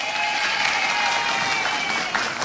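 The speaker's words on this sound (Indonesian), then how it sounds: "sekali lagi tepuk tangan buat adik-adik dari Aisyah" Studio audience on an Indonesian health talk show applauds a group of visiting children from Aisyah, Banten, with steady, dense clapping filling the room throughout, with no talk over it.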